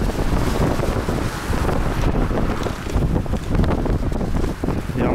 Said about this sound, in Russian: Не могу передать, какой силы ветер